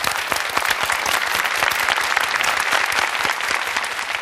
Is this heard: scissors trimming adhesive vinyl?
no